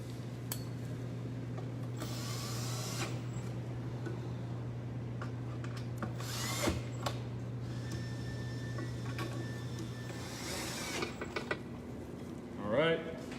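Power drill driving screws to fasten legs onto an epoxy table: a steady low motor hum runs through most of the stretch, with bursts of whirring and clicks near the end, close and moderate in level.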